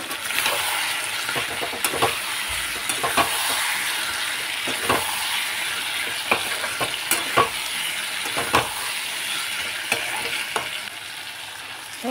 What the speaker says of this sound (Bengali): আলুগুলো দিয়ে দিলাম, ভাজা